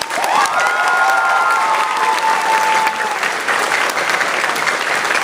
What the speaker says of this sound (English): A great round of applause for artists.